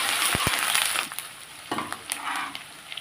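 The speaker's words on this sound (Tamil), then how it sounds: "பச்சை மிளகாய் இஞ்சியெல்லாம் சேர்த்து விட்டுறலாம். கருவேப்பிலையும் சேர்க்குறேன். இதை நல்லா ஒரு வதக்கிடுவோம்." Green chillies, ginger and curry leaves sautéing in a pan for Kerala inji puli, a crackling sizzle broken by a few sharp clicks and scrapes of stirring, close and fairly loud with no voices.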